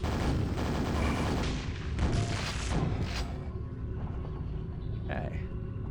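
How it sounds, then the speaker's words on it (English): Rocket launcher fire in the video game Quake, a dense run of loud booming blasts and explosions that fill the mix, with the roar thinning out toward the end. "Rocket launcher."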